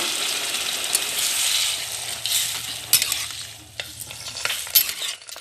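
Vegetables poured into a hot wok of oil tempered with nigella seeds set off a loud, steady sizzle with clinks of a spatula stirring, close up and with no talk, for a village-style olkopi (kohlrabi) curry with steamed eggs.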